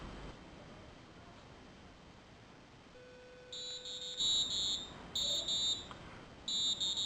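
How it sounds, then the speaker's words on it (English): An alarm sounding indoors, first a faint steady tone, then loud repeated electronic beeping in bursts over a low background hum. "In that time the alarm is gonna turn on."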